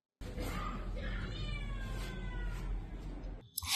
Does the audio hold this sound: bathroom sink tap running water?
no